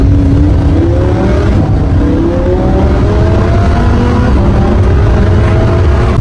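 Lamborghini Huracan engine accelerating hard with a loud, continuous roar whose pitch climbs steadily, drops at an upshift, then rises again, heard up close with no talking.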